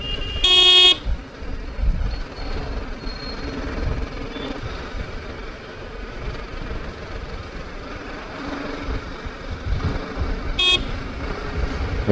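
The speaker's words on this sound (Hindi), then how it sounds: "इसलिए हॉर्न मारे तो भी वो रास्ता नहीं दे रहे हैं।" Car horns honk from nearby traffic on a road during a summer Sunday ride on a BMW G310 GS motorcycle, two short blasts at the start and end over steady engine and wind rumble.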